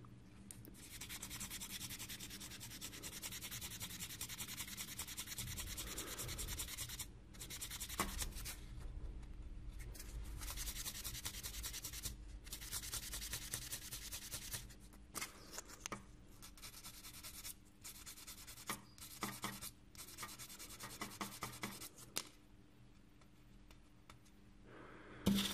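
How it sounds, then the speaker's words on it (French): Sandpaper rubbing on the plastic body of a 1/24 Fujimi Ferrari F430 Challenge model kit, close, faint and scratchy, in steady back-and-forth strokes with brief pauses that grow more frequent toward the end. "j'essaye de poncer à l'extérieur de la ligne de structure pour ne pas l'affaiblir"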